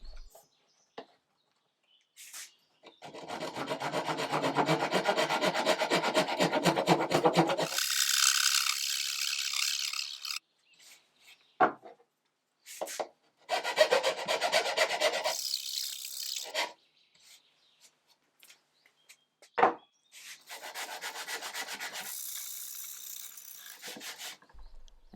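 A glued-in wood piece being shaped by hand on an antique marquetry table: close, loud bursts of rasping and scraping strokes, several seconds each, separated by short silences.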